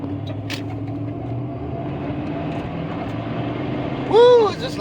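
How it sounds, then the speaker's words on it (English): A 1995 Ford F-150 pickup with a 302 V8 rumbles at idle, then near the end revs hard with a rising whine as the tires spin, loud and close, with a voice heard over the engine. "Just lighting the tires up."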